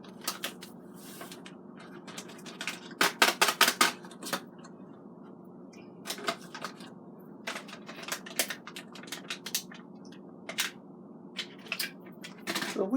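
Cajun fish breading being stirred together with Mama Sita's breading, giving irregular clattering, scraping and tapping of utensil against container in bursts, close and fairly quiet, with no talk.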